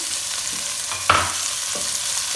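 Julienned orange carrot and other vegetables sautéing in a hot pan, a steady sizzle with one sharp clatter of stirring and a softer scrape later, no voices.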